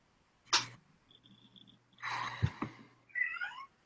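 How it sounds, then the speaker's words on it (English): A neighbour's cat inside a house gives a few short, close meows with small sniffs and rustles between them in an otherwise quiet room. "Stupid cat is in the house."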